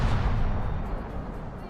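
Battleship armour-piercing shells striking a ship in the video game World of Warships make a dense, continuous roar of heavy rumbling blasts that stays loud throughout and eases slightly toward the end.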